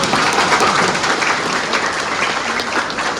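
An audience at a cooperative society's annual general meeting rises and applauds to welcome a guest, a dense, sustained burst of many hands clapping close by that stays strong throughout.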